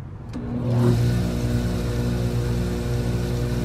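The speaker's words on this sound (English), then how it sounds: "I just turned this tile saw on." A Great White portable tile saw spins up with a rising whine, then runs at a steady, fairly quiet hum about two feet away.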